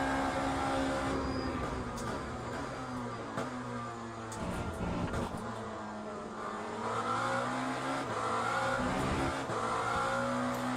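Lamborghini race car engine in the racing game Le Mans Ultimate, a steady high-revving drone with the pitch climbing and dropping through gear changes, loud and continuous for the whole stretch.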